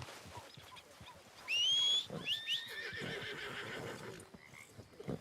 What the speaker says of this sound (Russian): Где моя лошадь?